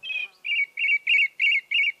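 Bird chirps from a radio nature programme, a run of six bright, evenly spaced chirps that come alone and clear at close range.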